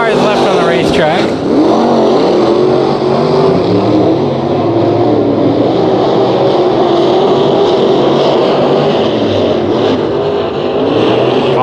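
Race cars restart on the dirt track at Bakersfield Speedway with a loud, constant engine roar that never lets up, and a voice talks over it.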